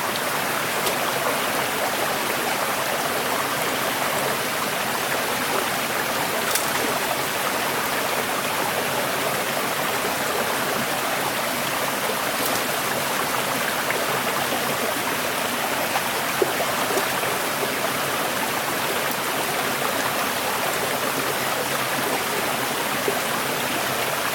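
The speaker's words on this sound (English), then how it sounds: "I had to wade straight up the creek to get to the falls." Steady rushing water of Sugar Creek below Sugar Falls in California's Ventana Wilderness, a continuous broadband flow with a constant level and no voices, like a stream running near falls.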